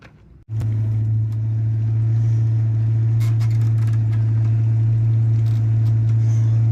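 A Ford Mustang parked since 1999 fires up after a short quiet moment, then settles into a steady, deep, close idle as it warms up.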